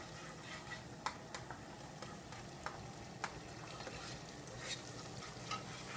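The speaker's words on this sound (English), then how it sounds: "So I'm just going to stir it around until the onions kind of open up" Chopped onions sauté in a pan for fettuccine Alfredo sauce, a faint, even sizzle punctuated by light scrapes and clicks of stirring, with no voices.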